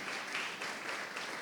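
Church congregation applauding, a brief dense patter of clapping hands at moderate volume, steady across the moment with no voices over it.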